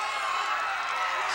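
Sustained loud cheering from a packed wrestling arena crowd at the Irish McNeil's Boys Club, a thick unbroken roar of voices and whoops during a standing ovation.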